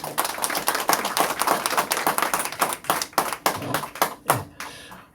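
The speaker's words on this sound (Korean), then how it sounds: "박수로 환영해 주십시오" Audience at a cultural-affairs seminar claps in welcome for an arriving panelist, a crowd of sharp, loud hand claps, irregular and close, thinning toward the end.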